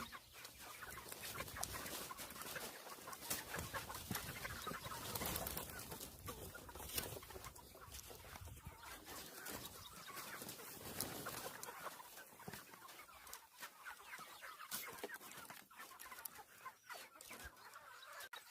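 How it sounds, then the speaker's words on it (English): Meat chickens on a farm clucking at feeding time, a busy flock of overlapping clucks and squawks that runs throughout, close but faint, with a scattered, irregular rhythm and no talk. "it is time to feed the meat birds"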